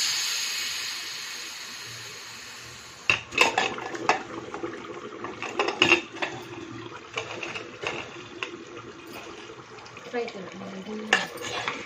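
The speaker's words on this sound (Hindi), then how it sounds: "कुकर भी ठंडा हो चुका है। अब इसे ओपन कर लेते हैं लिड को।" Metal clinks and scrapes ring out as the lid comes off a cooled pressure cooker holding cooked mutton for Hyderabadi dum biryani. A faint steady hiss fades beforehand, and a series of close, sharp kitchen knocks follows.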